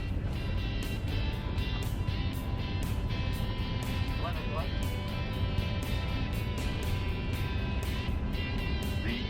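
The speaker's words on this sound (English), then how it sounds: "Time for another takeoff." Airbus A380 airliner taking off, heard as a steady broad engine roar with rushing noise throughout, constant and dense, with occasional faint voices.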